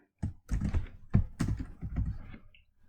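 Keys clatter on a computer keyboard as Arduino code is typed, with several quick bursts of taps and thunks from close by and brief pauses between them, and no talking.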